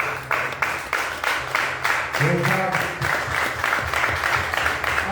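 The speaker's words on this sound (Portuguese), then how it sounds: "Aplauda Jesus Cristo" A church congregation claps in rhythmic bursts during a service, with an excited voice calling out over the applause partway through.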